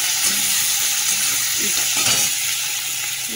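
Chopped onion frying in hot oil with dried chilli and five-spice, giving a steady, dense sizzle with a faint low rumble beneath and no voices.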